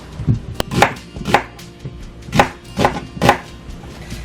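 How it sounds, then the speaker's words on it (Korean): A knife chops vegetables on a cutting board in a home kitchen while a Korean duck and perilla seed soup is being prepared, with about seven steady, close, thudding cuts and no talking. "적당히 적당히 썰어주시면 돼요."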